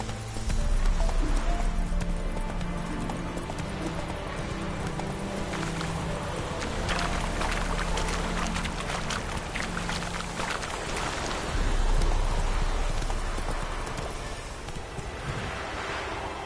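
A horse gallops in the video game The Witcher 3, its hooves drumming a steady clip-clop over a constant rush of wind and ambient outdoor noise, with no talking.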